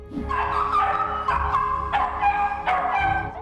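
A dog reunited with a boy after being lost in an Oklahoma tornado lets out excited, high-pitched whines and yelps in several close bursts over about three seconds, with no one talking.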